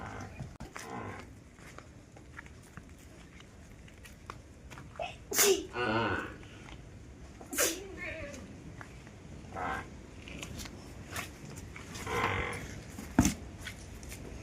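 A buffalo snorts and huffs a few times nearby on a farm amid outdoor background noise, with scattered voices talking.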